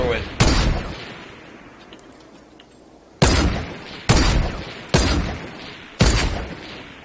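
Gunfire in the video game Fortnite: one sharp blast, then four more loud booming shots at roughly one-second intervals, each with a decaying tail, over faint background game noise.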